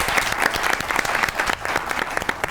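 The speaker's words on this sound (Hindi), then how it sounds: "चले जी ताली बजाइए इनके लिए।" Studio audience clapping on a comedy talk show, a dense, even burst of applause close by for a couple of seconds.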